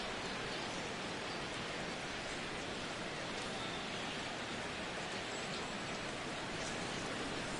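Heavy rain pouring down during a Rays versus Red Sox baseball game in MLB 16 The Show, a dense, unbroken hiss of downpour filling the whole stretch with no voices.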